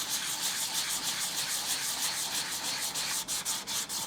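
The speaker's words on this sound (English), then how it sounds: "So I'm just sanding that off very lightly." Light sandpaper rubbing in steady back-and-forth strokes over embossed paper on a handmade card, close and soft, with no talking.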